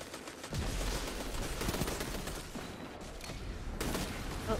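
Continuous gunfire in Destiny 2, rapid repeated shots and impacts filling the whole stretch at a steady, fairly loud level, with a few sharper bursts along the way.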